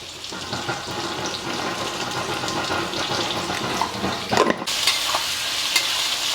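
Chopped onions sizzle in a large pan for idli upma while a spoon stirs and scrapes through them, with a sharp clatter partway through and a steady frying hiss underneath.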